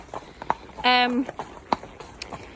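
A ridden horse's hooves clip-clop in a loose rhythm of sharp, fairly close thuds on the ground, with a brief vocal sound partway through.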